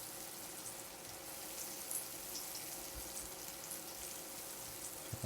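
Shallots fry in a pan with steady, soft sizzling. Faint stirring scrapes and small pops sit over a quiet, constant hiss, and nobody talks.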